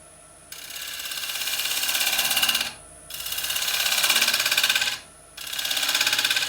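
A woodturning lathe spins wood while a tool cuts in with the bevel rubbing, giving three sustained bursts of close, loud scraping hiss separated by short pauses.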